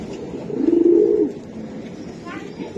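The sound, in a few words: racing pigeon cooing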